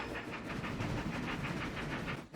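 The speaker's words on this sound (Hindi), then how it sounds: "टीटीपो, सामने एक रेल है, इसलिए थोड़ा धीरे चलो।" A cartoon train rolls along the rails with a steady rhythmic clickety-clack and a hissing, chugging engine, moderately loud and continuous with no talking.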